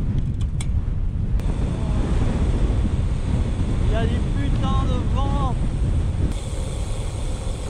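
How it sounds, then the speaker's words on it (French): Strong wind buffets the microphone in a steady, loud roar on an exposed road during a long-distance ultra cycling ride, with a brief voice and some whistling tones partway through. "Il y a du putain de vent."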